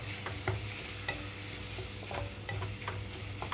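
Ground raw mango and fresh coconut chutney is stirred into hot oil tempering, giving a soft steady sizzle with repeated scraping spoon strokes, heard alone and fairly quiet.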